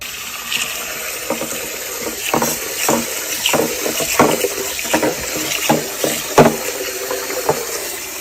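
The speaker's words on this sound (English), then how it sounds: "I've rinsed 2 cups of rice, not to the point of clear water, but cleaner water." Two cups of rice are rinsed under running tap water, a loud close gushing stream broken by irregular splashes and swishes as the grains are stirred, with no voices.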